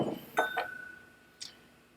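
A 2018 Victoria Whisky Festival tasting glass is handled, with a couple of quick close clinks followed by a single lighter glassy tap, in a quiet room.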